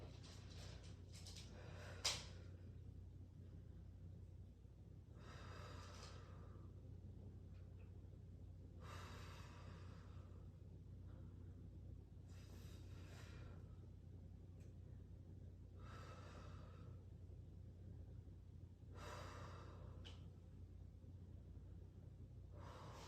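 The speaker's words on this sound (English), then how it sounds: "those deep breaths again" Slow, deep breaths repeat at a steady pace during a stethoscope exam, each a soft airy rush lasting a second or two, close by over a low steady hum.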